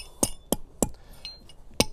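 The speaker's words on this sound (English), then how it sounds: "So you'll hammer the spike halfway into the ground." A hammer strikes a metal spike for a motorhome windscreen, driving it into sandy ground: four sharp, ringing metallic hits at uneven intervals, close and clear with quiet gaps between.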